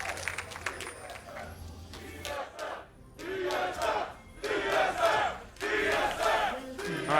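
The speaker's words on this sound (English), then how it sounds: "as we hear the crowd chant" A large esports arena crowd at a League of Legends LCS match chants and roars in loud rhythmic bursts, voices rising and falling together with short gaps between surges.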